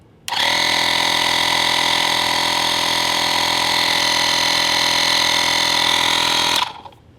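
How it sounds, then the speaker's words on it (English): A portable tire inflator pumps up a tire on a 2017 Honda Accord, giving a loud, steady mechanical drone with a buzzing whine that starts abruptly, runs unbroken for about six seconds, then cuts off. "it's going to start pumping up our tire"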